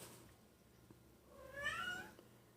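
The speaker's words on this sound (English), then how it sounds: "you heard my cat?" A single soft cat meow rises and falls in a quiet room, fairly faint and brief.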